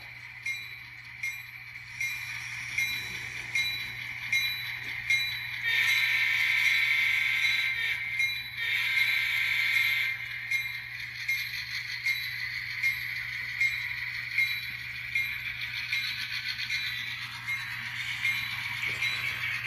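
Locomotive 2256 in a train video game reverses, sounding a sustained horn with mechanical rail noise and a low steady hum underneath, the horn swelling loudly in the middle before dropping back.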